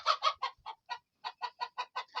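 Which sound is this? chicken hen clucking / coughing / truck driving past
chicken hen clucking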